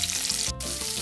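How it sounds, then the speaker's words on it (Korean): Oil crackles and sizzles loudly around sausages cooking on a camping heater used as a stove. The frying is close and dense, with a momentary dip partway through. "기름이 튀어가지고?"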